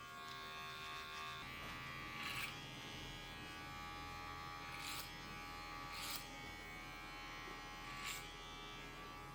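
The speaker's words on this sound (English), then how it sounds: "I'm going to finish that with a clipper over comb" Electric hair clippers cut hair over a comb while finishing a short hippie killer throwback haircut, giving a steady, faint buzz with a few brief louder bursts as the blades move through the hair.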